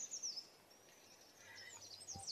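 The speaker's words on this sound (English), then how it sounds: "I like that I can hear the birds when I'm playing this game." Bright, faint birds chirp in short tweets scattered over a soft background in an Action PC Golf match on a wooded course, with a small thud near the end.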